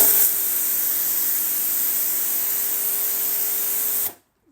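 Halfords pressure washer blasting water in a steady, loud, continuous spray that holds for about four seconds, then cuts off abruptly into silence.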